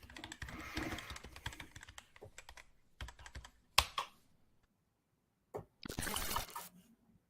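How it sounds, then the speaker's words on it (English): Bursts of computer keyboard typing, close and crisp, with quiet pauses between the flurries of keystrokes. "I can hear typing."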